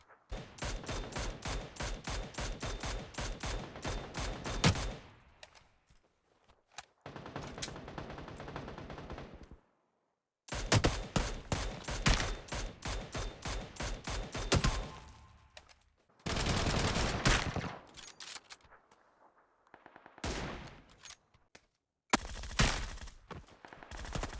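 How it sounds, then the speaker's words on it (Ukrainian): Loud bursts of rapid automatic gunfire in the mobile game New State Mobile, Humans vs AI mode, firing in long sustained volleys separated by short pauses, up close with no talking. "Лежучи стріляє."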